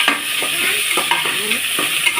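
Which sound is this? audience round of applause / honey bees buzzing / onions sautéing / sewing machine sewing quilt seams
onions sautéing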